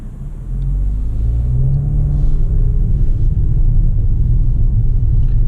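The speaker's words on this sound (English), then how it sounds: "So when you are driving in normal mode, you can have only 4-cylinder like engine." Mercedes-AMG GT53 4-door coupe engine running in normal mode, a steady low rumble with a mild rise in revs, loud and close with no talk.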